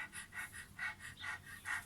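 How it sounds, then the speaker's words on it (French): A person demonstrates shallow, high, out-of-breath stress breathing, with quick rhythmic panting of about seven short, airy breaths in close succession, near and fairly quiet, with no talking. "c'est la respiration sous clavière, c'est celle qu'on a lorsqu'on est essoufflé ou quand on est très très stressé"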